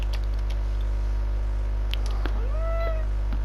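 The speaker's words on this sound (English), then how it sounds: "Yes, Satan, you're such a cute little kitty." A pet cat named Satan gives a short meow near the end, a gliding upward-then-falling call over a steady electrical hum and faint background clicks.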